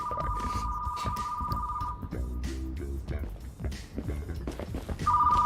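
Electronic telephone ringing in the Retro Rewind video game, a steady high warbling tone that sounds for a couple of seconds, stops, then starts again near the end, under game noise and people talking.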